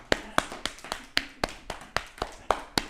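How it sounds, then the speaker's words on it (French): An audience in a self-massage (do-in) class applauds by tapping their feet, about ten sharp, evenly spaced taps in a steady rhythm, close and clear with no talking. "Applaudissez avec les pieds."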